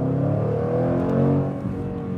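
Engine of a 2021 Jaguar F-Pace SVR, a loud, steady close-up drone that rises slightly in revs midway and then settles, with no talking over it.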